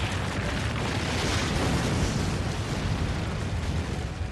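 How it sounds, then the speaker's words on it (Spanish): A mega-eruption of the Yellowstone volcano roars as a dense, sustained explosive rumble, a loud wall of deep noise that holds steady for several seconds with no voices. "El fenómeno volcánico más poderoso que ha presenciado la humanidad acaba de sacudir la Tierra."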